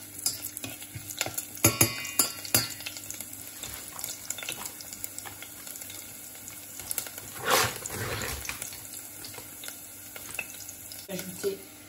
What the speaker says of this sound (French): je mets un petit peu d'échalotes dans de l'huile